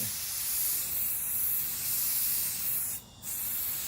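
Spray can of Helmsman finish hissing in a steady continuous burst close by, with a brief pause near the end before spraying resumes, used on a carved wooden home sign.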